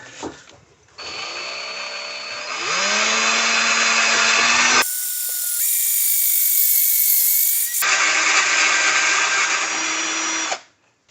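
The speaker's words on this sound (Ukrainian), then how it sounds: "Сверлимо отвір спеціально ось таким сверлом по кераміці." A power drill with a ceramic tile bit whines loudly and continuously, its pitch rising as it bites into hard floor tile, briefly cutting out and shifting to a higher tone before resuming.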